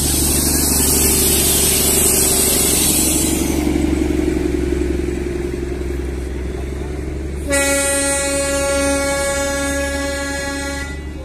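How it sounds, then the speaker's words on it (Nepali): Crowded Darjeeling toy train rumbling steadily on the Batasia Loop, then a loud sustained horn blast partway through, heard close and alone without talk. "दार्जिलिङको छुकचुके ट्रेन"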